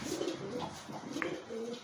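Soft, low cooing from a pair of pet pigeons, including a red female, sitting together; several faint, repeated coos sound from a short distance.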